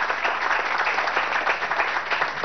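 Audience applause at the opening of the Mukumbarí cable car in Mérida, Venezuela, a dense, steady clapping of a large crowd that holds throughout, fairly loud and with no talking.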